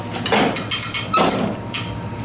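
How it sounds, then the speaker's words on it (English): Dover elevator doors closing, a couple of quick knocking thuds and a sliding rumble, close and fairly loud with no voices. "When the Dover wants to close, the Dover will close."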